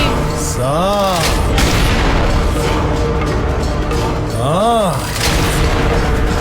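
Landmine explosions in a KGF Chapter 2 movie scene thunder loudly, with deep booms rolling amid dense roaring noise, while a voice speaks over them.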